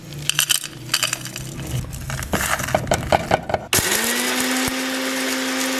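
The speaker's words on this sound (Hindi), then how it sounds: "तो ये मसाला हमारा ग्राइंड हो गया है" A spice mix of salt and dried plums (aloo bukhara) for Karachi chicken biryani grinds in an electric grinder, a loud rattling, crunching whir of hard pieces. Midway it smooths into a steady high-speed motor hum.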